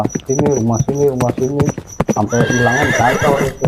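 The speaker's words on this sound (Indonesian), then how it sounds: "Itu suara kuda tuh banyak." Several horses neigh and whinny in harmonic, rising-and-falling cries alongside clip-clopping hooves, fairly close and loud, with people talking over them.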